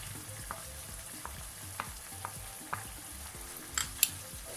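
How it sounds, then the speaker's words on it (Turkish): Chopped vegetables sautéing in a pan with a spoonful of tomato paste, for a vegetable pasta, give a steady soft sizzle. A spoon or spatula scrapes and taps the pan at spaced, irregular moments, and one brighter clink comes near the end. "Kavrulan sebzelerime şimdi de bir kaşık salça ilave ediyorum."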